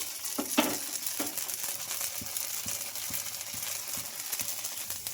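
Rava dosa made from wheat flour fries in oil on a pan, giving a quiet, steady sizzle with a few light taps and scrapes of a utensil near the start.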